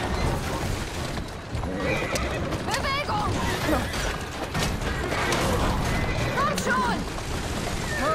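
Horse neighing with whinnies and hoofbeats in the video game Assassin's Creed Syndicate, several whinnies rising over galloping clip-clop and background game noise, with some talk mixed in.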